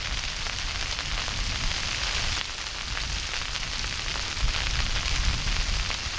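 Hail pelts a tarp during an ice storm at a tentless winter campsite, making a dense, continuous patter that stays loud and steady throughout.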